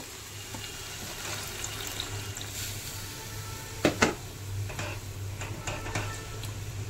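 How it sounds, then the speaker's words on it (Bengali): Water runs into a pan of chicken curry as a steady faint trickling wash, with a few sharp clinks and taps in the middle and a low hum underneath; no speech. "এবার চিকেনে পরিমাণ মতো জল দেব"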